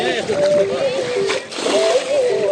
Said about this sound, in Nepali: यहाँबाट चाहिँ पानी माथि फ्याँक्दै हुनुहुन्छ?